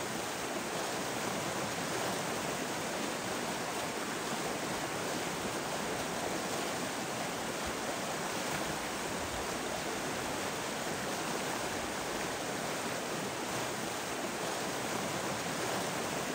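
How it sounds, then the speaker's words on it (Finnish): The rapids of the Kitka river near Kuusamo in autumn, where two currents join, give off a steady, broad rushing roar of churning water. It stays even and unbroken throughout, with no voices. "Siinä yhtyy kaksi virtaa."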